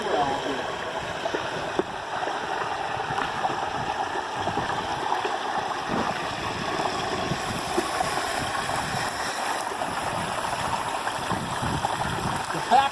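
Whole turkey dunked and frying in a pot of hot oil outdoors, a continuous loud bubbling, rushing hiss with occasional pops, mixed with voices talking nearby.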